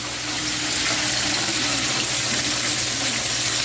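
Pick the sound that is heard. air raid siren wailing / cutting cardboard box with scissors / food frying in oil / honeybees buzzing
food frying in oil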